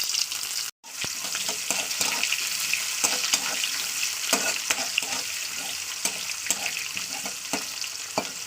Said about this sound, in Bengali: এবার দিয়ে দিচ্ছি পেঁয়াজটাকে।